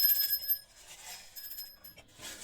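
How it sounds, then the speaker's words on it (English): Three small metal bells jingle briefly with bright ringing tones that fade out, followed by a faint rustle. "So we've got 3 bells, it looks like."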